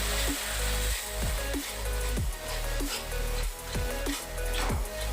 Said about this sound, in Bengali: দিয়ে আবারও আমি একটু ভালো করে মশলাটাকে কষিয়ে নেব